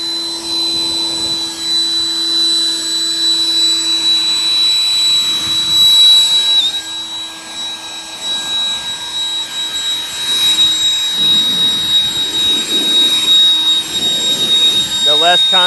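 A handheld electric blower drying a ceramic-coated car, a steady loud whooshing airflow with a high tonal whine running throughout, fluctuating slightly as it moves across the paint.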